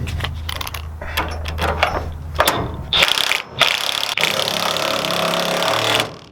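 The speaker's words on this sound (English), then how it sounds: "So we're going to go ahead and tighten them all down." Ratchet tightening the bed bolts on a Ford F250 truck, a run of quick clicking strokes followed by a louder burst of rapid ratcheting, close up with no talk.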